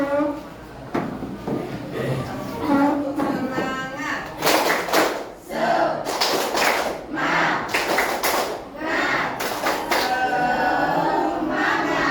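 A classroom of students doing rhythmic spirit clapping in an Islamic history lesson, sharp bursts of unison claps in a patterned beat, loud and close, with voices calling out between the clap groups.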